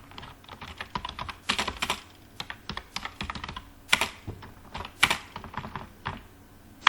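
Keys clatter on a computer keyboard in quick irregular bursts of close, crisp clicks with short pauses between words, no voice over them.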